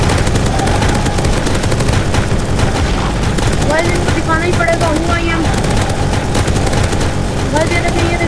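Gunfire in the Roblox video game, a steady busy barrage of shots under a continuous bed of game music and effects, loud throughout with no clear separation between individual bursts.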